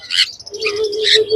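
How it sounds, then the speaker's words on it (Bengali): A black-capped lory parrot at a pet market gives a brief, shrill chirping call with a short sustained note, close by and alone. "এটা আছে তোমার ব্ল্যাক ক্যাপ লরি।"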